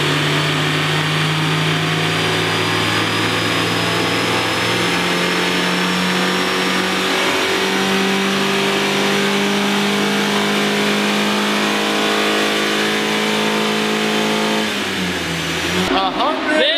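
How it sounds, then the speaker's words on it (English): An unmodified stock car engine pulls hard on a dynamometer, its loud, close tone climbing steadily through the revs for about fifteen seconds before dropping off sharply as the pull ends. "Finished that dyno pull."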